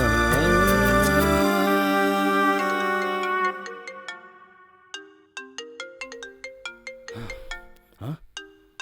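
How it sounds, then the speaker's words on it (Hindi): A mobile phone ringtone plays loud and close: a bright melodic tune that thins into a string of sharp, rhythmic electronic beeps as an office call comes in. "हाँ, ऑफिस से फोन"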